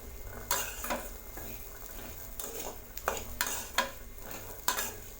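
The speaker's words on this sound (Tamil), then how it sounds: "சேர்த்திட்டு இதை மிக்ஸ் பண்ணி விடலாம்." Chickpea masala sundal with curry leaves and chopped coriander stirred in a pan, with repeated scraping and clinking of a spoon against metal over a faint sizzle, loud strokes arriving irregularly.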